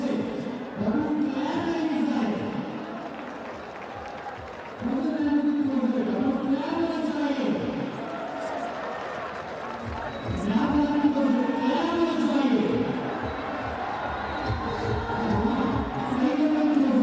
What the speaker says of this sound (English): A different feel with the crowd as Babar Azam batting.